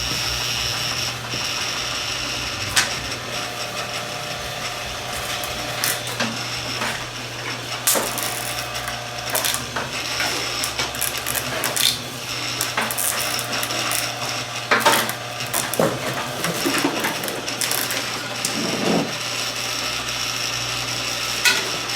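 Copper Romex wire is stripped with a hand wire stripper, producing continuous close ratcheting clicks and mechanical snaps over a steady background hum, with no talking.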